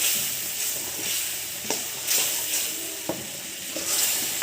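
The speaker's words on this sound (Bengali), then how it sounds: "এখন আমি মশলাটাকে সুন্দর করে কষিয়ে নেব" Spice masala frying in a pan for an egg and boiled potato curry, a constant close sizzle with a few soft stirring scrapes, no talking.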